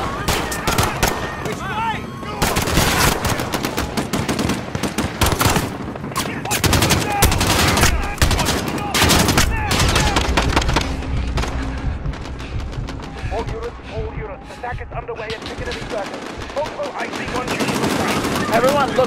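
Sustained automatic gunfire in Modern Warfare: dense machine-gun bursts and single shots crackling loudly for most of the stretch, easing briefly near the end, with voices talking underneath.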